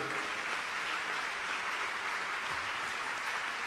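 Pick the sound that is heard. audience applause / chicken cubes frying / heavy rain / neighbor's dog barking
audience applause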